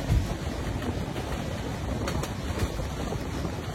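The Sundarban Express passenger train runs along, heard from on board as a steady, moderately loud rumble with faint scattered clicks and no talking.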